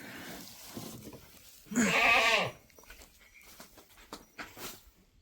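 A lone farm goat bleats once, a loud, wavering cry lasting under a second that stands out against quiet outdoor background noise.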